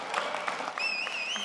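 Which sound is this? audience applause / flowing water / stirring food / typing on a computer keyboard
audience applause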